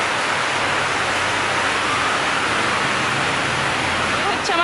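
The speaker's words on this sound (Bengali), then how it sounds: "বাইরে এসে দেখি তুমুল বৃষ্টি ঝেড়ে বৃষ্টি পড়ছে" Heavy rain pours outdoors in an unbroken, dense hiss that stays loud and even from start to finish, with no voices over it.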